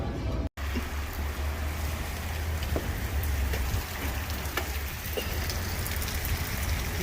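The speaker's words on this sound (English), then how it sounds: "It's raining." Steady rain pattering on a surface with a low rumbling hum underneath and scattered drop ticks, continuous throughout.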